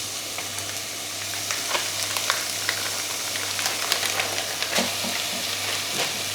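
Bacon sizzling in a hot pan for bacon mac and cheese, a dense steady crackle with scattered sharp pops and spits throughout, close and continuous.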